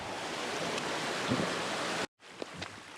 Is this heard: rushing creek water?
yes